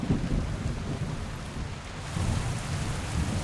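Deep rolling thunder with steady rain in the medieval RPG Kingdom Come: Deliverance 2, a continuous low rumble that swells and eases over a few seconds, heard alone without voices.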